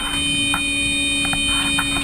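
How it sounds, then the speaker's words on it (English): An alarm sounds aboard a passenger plane going down over the ocean as a steady, unbroken electronic tone over cabin noise, with no voices. "Suddenly, the alarm sounds."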